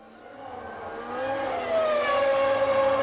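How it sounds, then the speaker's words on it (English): A Formula 1 race car at the 1996 San Marino Grand Prix, braking hard with its engine bouncing off the rev limiter: a loud, high-pitched multi-harmonic engine wail that swells and shifts in pitch, with no talk over it. "Hear that rev limiter coming in as he goes down. What a horrible noise."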